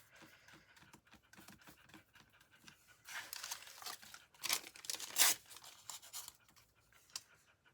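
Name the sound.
dog panting after playing fetch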